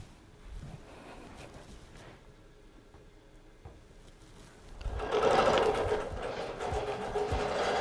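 A computerized quilting machine stitches a quilt with a steady mechanical hum and rattle, running quietly at first and then growing louder and fuller partway through.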